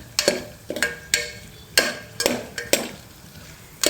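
Cashew nuts fry in a pan with bay leaf while a spatula stirs them, giving about six sharp scraping strokes at a steady rhythm over a soft continuous sizzle, close and alone without speech.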